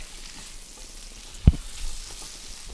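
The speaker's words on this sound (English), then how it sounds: "we're just literally just gently sort of sauteing them in the butter" Raw tiger prawns sauté gently in butter in a pan for linguine, a soft, low sizzle with a single sharp knock of a utensil partway through, close and without speech.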